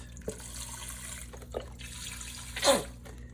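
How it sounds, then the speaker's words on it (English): Water poured into a pot of split pea soup with ham, soft splashes and brief pouring bursts, the last one louder and fuller, heard up close in a quiet kitchen. "I'm going to add some water in"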